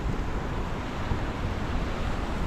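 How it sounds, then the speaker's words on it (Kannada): Rough sea waves surge and break against the shore at Bekal Fort in Kerala, a steady low rumble of churning surf mixed with wind buffeting the microphone, with no voices. "ಈ ಅಲೆಗಳಂತೂ ಇಲ್ಲಿ ರುದ್ರ ತಾಂಡವ ತಾಳ್ತಿದ್ದಾವೆ ಈ ಜಾಗದಲ್ಲಿ"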